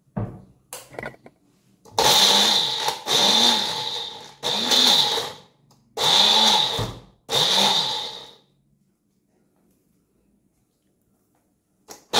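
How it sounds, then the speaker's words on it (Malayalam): A mixer grinder whirs through Tuva spinach paste in five loud, even bursts of a few seconds each, separated by short pauses, then stops and leaves near silence. "നമുക്കിനി ഇത് അരച്ചെടുക്കാം."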